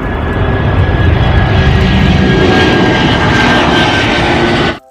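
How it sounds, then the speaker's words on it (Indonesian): A steady, loud toy airplane engine drone with a high whine runs throughout, then cuts off abruptly at the end. "lihat teman-teman, di sini ada pesawat terbang"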